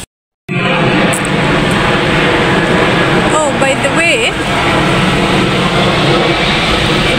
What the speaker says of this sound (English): that's a FedEx plane